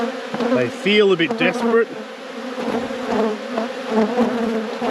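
Honeybees buzzing around a hive during a robbing event, a close, steady insect drone running under a person talking.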